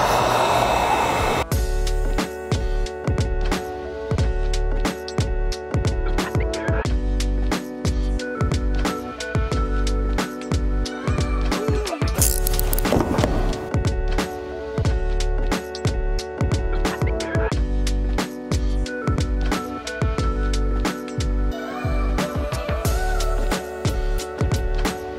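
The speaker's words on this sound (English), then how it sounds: "And now we're just going to apply heat." A heat gun blows a steady, loud whooshing hiss while heating chrome delete vinyl film on the side door trim of a 2017-2022 Kia Sportage, continuous with small fluctuations and no talking.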